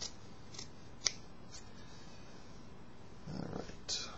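Scissors snip through puppet fabric for a prairie dog puppet, a few quiet, isolated cuts with one sharper snap, followed by a soft rustle of cloth near the end.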